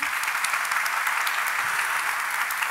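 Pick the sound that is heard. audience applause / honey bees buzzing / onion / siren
audience applause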